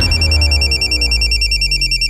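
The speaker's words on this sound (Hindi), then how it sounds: "लो फोन लो।" A telephone rings loudly and close by, an electronic ringtone pulsing in quick, even repeated bursts with a bright tonal ring the whole way through.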